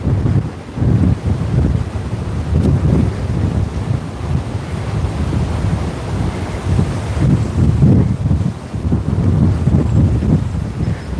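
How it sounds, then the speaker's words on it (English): Strong wind buffeting a microphone on a walk near Waikiki toward Diamond Head, Hawaii, a loud continuous low roar with gusty swells throughout and no speech. "Man, this wind is something else."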